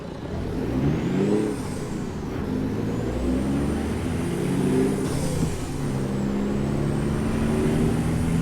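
A heavy truck in American Truck Simulator slows hard, its engine note rising and falling with a whining transmission, while a loud, sustained rumble runs close and steady throughout.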